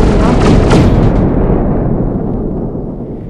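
Bombs set to high power explode on a planet in Solar Smash, a loud rolling barrage of deep booms and crackling blasts that swells early and then fades into a long low rumble.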